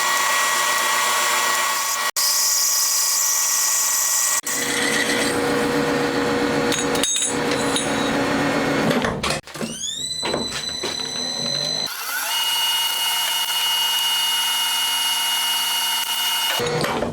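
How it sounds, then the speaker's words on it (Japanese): A lathe drills holes in a camshaft blank for a small 125cc twin-cam four-cylinder engine and then reams them, giving a steady machine whir with shifting tones, brief stops and a higher-pitched reaming phase toward the end. "次穴開けてリーマン仕上げですね"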